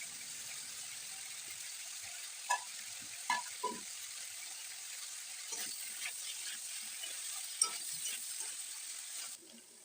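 Cauliflower and potato pieces frying in a pan for a grass carp curry, a faint, steady sizzle broken by several soft scraping stirs and clinks of the spatula.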